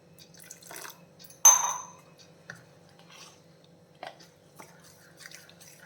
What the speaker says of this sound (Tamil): இன்னும் கொஞ்சம் தண்ணி சேர்க்கலாம்